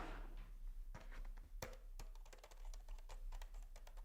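Keys on an Amazon Basics wireless keyboard click in an uneven run of quick, close taps, some clustered and some spaced apart, over a low, steady hum.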